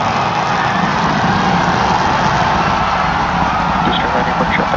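Starship rocket booster engines firing during the landing burn as it comes in to be caught by the tower, heard as a steady, dense roar that holds evenly at high level from a distance.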